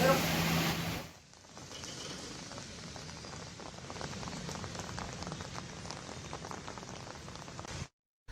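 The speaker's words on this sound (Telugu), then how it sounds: "హైదరాబాద్ మహానగరంలో గత గంట సేపటి నుంచి కూడా ఎడతెరిపి లేకుండా వర్షం అయితే కురుస్తుంది." Heavy rain lashes Hyderabad, a dense, continuous hiss of drops on hard surfaces holding steady for several seconds after a brief burst of a voice at the start.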